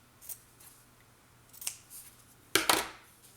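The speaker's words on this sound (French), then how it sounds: "Je vais aller avec ce ciseau ici, ça va être plus facile, je pense." Scissors snip through fabric while making small compartments, a few light cuts early on and then two louder, crisp snips close together near the end, with no talking.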